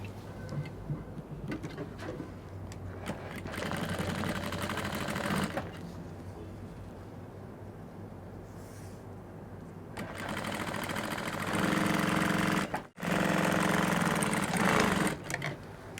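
A sewing machine stitches a puff sleeve in steady, close mechanical runs, stopping briefly midway and then starting again in louder bursts, with no talking.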